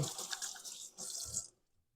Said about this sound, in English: Putting that in the sink. Rinsing our hands real quick.